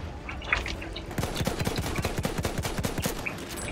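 Battlefield 1 gunfire into smoke: after a quieter opening with a few scattered shots, a rapid, sustained burst of automatic fire rattles on loud and close, each shot a sharp crack in fast succession.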